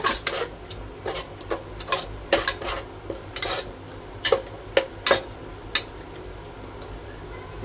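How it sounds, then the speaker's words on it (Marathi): Peas and washed potato pieces stir-fried in a pan over a fairly high gas flame, with a utensil scraping and clinking against the pan in irregular bursts over a steady low background. "आपण मटार आणि थोडा बटाटा आपण जो धुवून घेतलेला आहे तो सुद्धा टाकायचा आणि ह्याला मस्तपैकी आता परतायचा गॅस थोडा फास्ट केला आहे"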